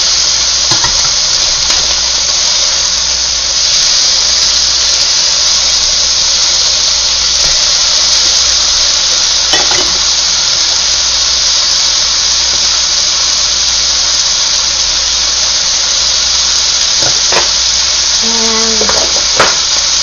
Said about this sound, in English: Then I'm going to add some butter to the skillet